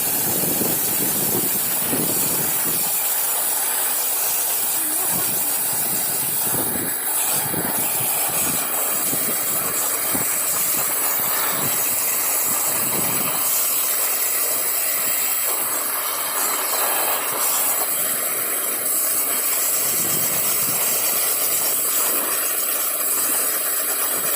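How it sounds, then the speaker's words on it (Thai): A high-pressure water spray hisses steadily onto clumps of fingerroot rhizomes to wash off soil, loud and close throughout, with splashing shifts as the jet moves from clump to clump and no talking. "ไปไล่ฉีดน้ำเป็นกอกอไปค่ะ"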